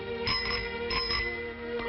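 A bicycle bell on a boy's new bicycle rings in a few bright, repeated dings with a sustained metallic tone, heard close and clear over a steady background.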